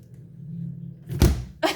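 A freezer door swings shut with a solid, close thunk, followed a moment later by a shorter knock, after a low steady hum. No one speaks.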